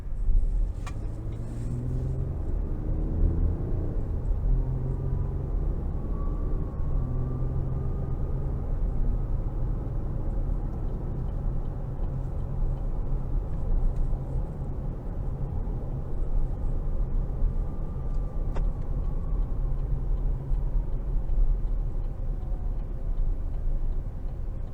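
A 2022 Chevrolet Colorado LT crew cab pickup cruises along a road, its steady low engine drone and tire roar continuous and close, with faint ticking and light rumble layered in and no one speaking.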